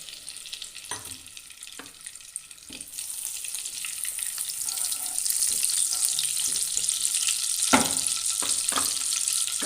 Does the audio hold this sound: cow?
no